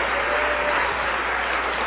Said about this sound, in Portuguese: vamos dar a melhor salva de palmas para a palavra de Deus